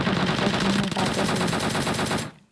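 Automatic gunfire from the mobile battle-royale game PUBG Mobile: a loud, continuous rapid-fire burst of shots that runs for about two seconds, then cuts off abruptly into quiet.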